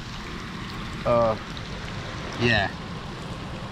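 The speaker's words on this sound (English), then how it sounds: "right now it is raining really bad" Heavy, prolonged rain pours over a flooding campsite at Angel City, a steady broadband hiss filling the whole stretch, with two brief bursts of a voice over it.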